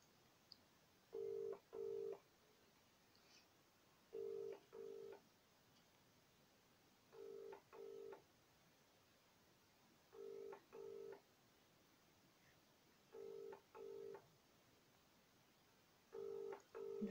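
Telephone call ringing unanswered with no one picking up: six evenly spaced double-ring bursts, each a pair of short tones, repeat at steady intervals over quiet line hiss, faint and clear.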